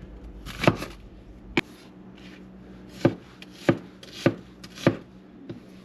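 A knife cutting an onion into big chunks on a board, sharp separate thunks at an uneven pace, about eight cuts, close and clear with quiet gaps between.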